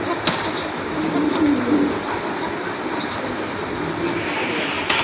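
Pigeons at a bird market, including red Gola-type birds for sale, coo and flutter close by in a busy crowd, with a faint rumbling backdrop throughout.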